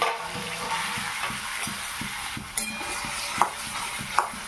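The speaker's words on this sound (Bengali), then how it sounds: "হালকা আছে একটু নেড়ে চেড়ে ভেজে নেব কিছুক্ষণ ধরে" Fresh chhana (cottage cheese) frying on medium heat in a pan, with a steady sizzle under repeated soft stirring scrapes and a couple of sharper clinks of the utensil against the pan.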